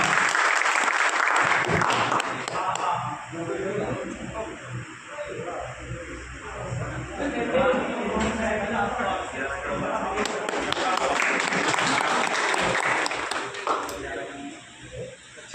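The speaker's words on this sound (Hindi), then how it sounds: "एक बार जोरदार तालियों से स्वागत करता हूँ।" Applause from a large crowd fills the clip with dense, steady clapping, while a voice talks over it through a sound system.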